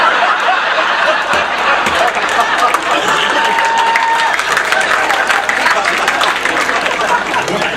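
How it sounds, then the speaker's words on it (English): Women in a comedy show audience applauding amid laughter and chuckles, a dense sustained wash of clapping and crowd noise. "Women are applauding that"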